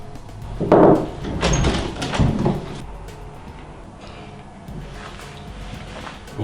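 A door opens into a room where a job interview is underway, giving a loud knock-like bump and rattle near the start, then fading into quieter room noise with faint handling sounds.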